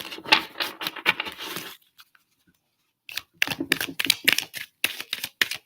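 Tarot card deck being shuffled, rapid crisp riffling and snapping bursts close up, pausing for about a second before resuming in quick fluttering runs.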